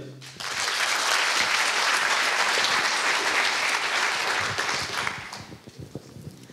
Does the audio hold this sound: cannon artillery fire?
no